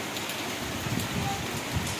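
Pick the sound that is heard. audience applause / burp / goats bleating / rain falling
rain falling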